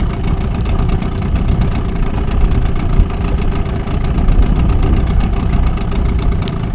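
A boat motor drones steadily on a river at a low, even pitch, close and fairly loud, never changing speed.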